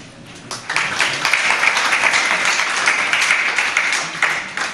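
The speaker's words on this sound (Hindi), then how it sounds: "जैसे आप लोग व्रत लेने के लिए तालियां बजा रहे हो" Audience at a Jain religious discourse bursting into applause, a dense wash of clapping that swells in after a quiet start and holds steady before tapering slightly.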